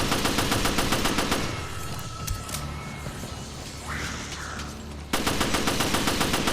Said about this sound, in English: go ahead and shoot all these fishes.